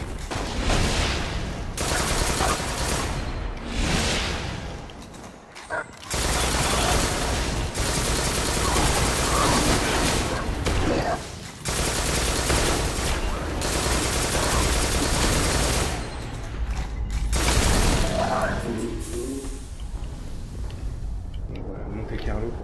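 Exotic Monte Carlo auto rifle in Destiny firing in sustained loud bursts with brief pauses, under game effects and French commentary.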